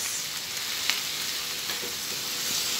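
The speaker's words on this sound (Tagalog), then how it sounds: "magluluto na kami ng seafoods" Seafood frying in a pan, a steady loud sizzle with a few brief pops, close and continuous with no talk.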